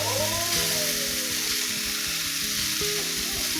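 Whole-wheat sliced bread toasting in a hot pan gives a continuous, loud close sizzle, with a low tonal hum running steadily underneath.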